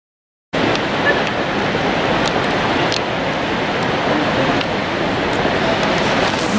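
Kjosfossen waterfall roars steadily in the open air beside a stopped railway train, a loud, unbroken rushing wash that starts abruptly after a brief silence and holds constant throughout.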